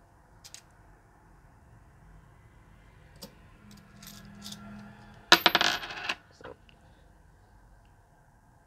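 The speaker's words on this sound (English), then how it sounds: "Still getting a lot of the Beatrix coins" Euro coins clink and rattle as they are handled and sorted in a coin hunt, with scattered small clicks and a burst of several coins dropping together, close and fairly quiet, with soft voices nearby.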